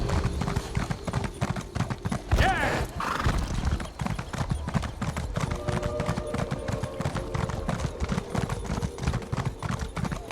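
Rapid hoofbeats clatter steadily throughout, with a horse whinnying near the start, loud and close with a synthetic, game-like quality.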